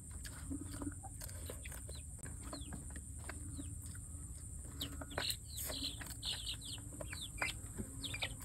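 A hen that is laying and brooding clucks among scattered chirps and bird calls at a rural countryside farm, with short soft calls repeating irregularly over a steady low background hum.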